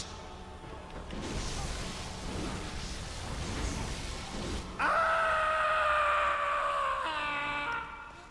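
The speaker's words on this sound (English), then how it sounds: "He does a very overdramatic scream." Micolash, a boss in Bloodborne, lets out an overdramatic drawn-out death scream, a long groaning wail that swells into a loud, sustained cry before cutting off.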